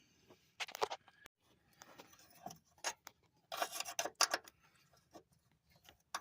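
Wrench turning out an 8 mm bolt on a power steering line of a 2013 Ford Transit Connect during motor mount work, heard as short, quiet raspy ratcheting bursts with pauses, close by.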